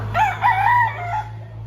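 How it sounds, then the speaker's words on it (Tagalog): A rooster crows once, loud and close, a rising then wavering call at an outdoor chicken market in Lipa, over a low steady hum with no talking. "Ang manok oh."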